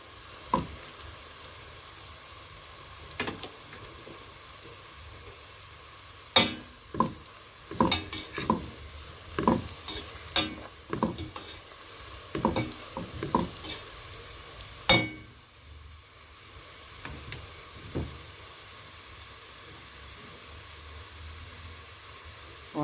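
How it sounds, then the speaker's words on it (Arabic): Tomato sauce for stuffed cabbage sizzling in a hot pan, a soft continuous hiss broken by scattered sharp knocks and scrapes of stirring, some clustered close together, others spaced apart. "هنزل بالشفشق الطماطم بتاعي"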